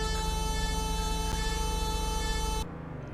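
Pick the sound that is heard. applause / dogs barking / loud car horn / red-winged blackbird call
loud car horn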